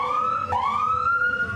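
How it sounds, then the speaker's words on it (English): A police siren wails steadily, its pitch sweeping and then holding, loud and close with no talk. "who had to blast their sirens"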